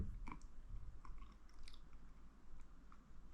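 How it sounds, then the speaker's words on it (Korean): A spoonful of soft pudding with syrup is chewed close to the mic, producing quiet, irregular wet chewing and small clicks over a faint low background. "힘들게 뜬 한 숟갈 이제 먹어볼게요."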